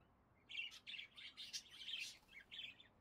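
Small birds chirp and tweet in short bursts in a pet shop in Exotica Pet Shop Simulator, the bright calls coming in a quick irregular string over a quiet background.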